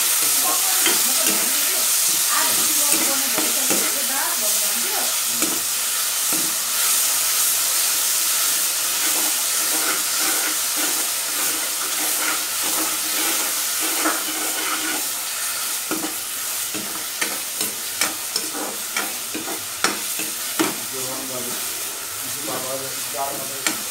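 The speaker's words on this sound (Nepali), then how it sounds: "अब म यसलाई भुट्छु एकछिन" Cumin, coriander, turmeric and ginger-garlic paste fry in a hot pan with a steady loud sizzle and hiss, while stirring adds repeated scraping clicks and taps throughout.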